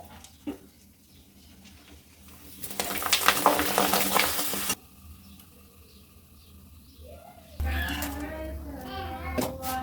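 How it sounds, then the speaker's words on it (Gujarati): Bhungra, puffed snack pellets, frying in hot oil: a loud, bright burst of sizzling and bubbling after quieter stretches, with other kitchen noises and birdsong around it. "તેલ ગરમ થઈ ગયું છે તો હવે આપણે ભૂંગરા તળી લેશું"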